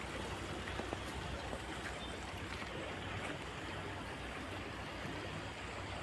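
Continuous rushing of water flowing into a field irrigation channel nearby, a constant dense wash with no pauses and no voices.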